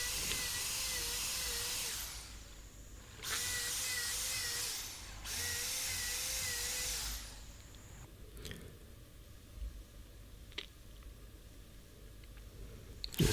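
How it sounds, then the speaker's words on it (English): A power drill whines through wood stair treads in three long bursts with short pauses, followed by quieter knocks and clatter as work continues. "flip it over, drill the holes."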